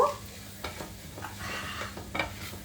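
Maida and butter cook into a brown roux in a pan, giving a soft, steady sizzle with occasional spoon stirs and scrapes close by.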